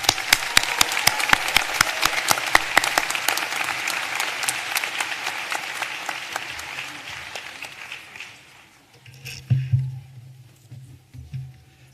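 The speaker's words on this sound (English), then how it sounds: "Give a warm round of applause" Audience applause at a graduate program commencement ceremony: dense, loud clapping from a large crowd that gradually thins and dies away, followed by brief low rumbling near the end.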